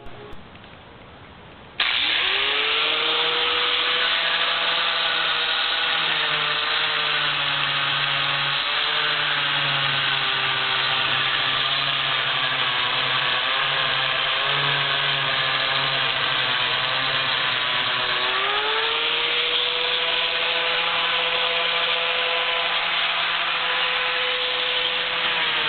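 An angle grinder fitted with a masonry cutting disc smooths a cast concrete part, running loud and steady for the whole stretch with a high whine and a pitch that dips under load and rises again near the end, no talking.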